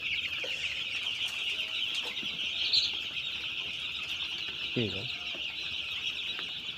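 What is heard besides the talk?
chickens clucking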